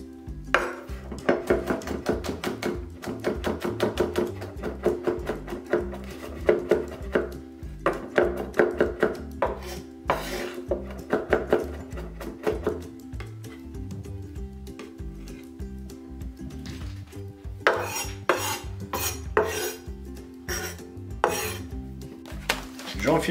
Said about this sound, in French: je vais hacher quelques gousses d'ail, environ 3 à 4